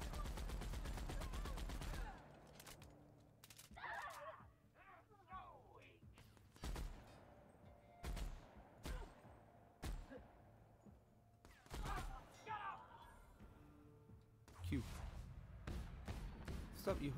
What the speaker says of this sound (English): I think I need my heavy machine gun for that guy.